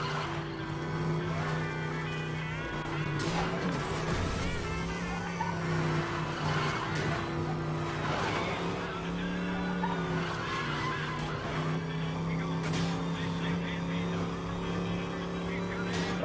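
Engines drone steadily with occasional tire skids as cars race in a police chase in Need for Speed Most Wanted, running the whole time beneath a player talking.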